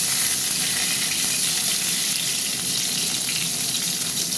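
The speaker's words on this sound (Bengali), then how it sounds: "ভালো করে ভেজে নেব, ভালোভাবে পটলটাকে ভাজবো।" Pointed gourd (potol) frying in hot oil: a steady, dense sizzle that stays loud and close throughout, with no voices over it.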